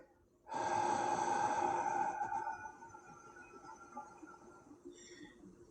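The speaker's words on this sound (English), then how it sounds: "You're going to take a deep breath" A single deep breath let out slowly and close by, a long airy exhale that fades away over a few seconds.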